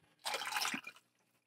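Water poured into an off-grid solar battery makes a steady, close splashing rush that runs for under a second, then trails off into quiet.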